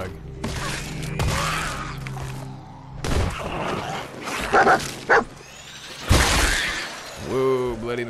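A dog in the video game Fallout 4 gives a few yips and barks amid game effects and crashes, with someone speaking between the sounds.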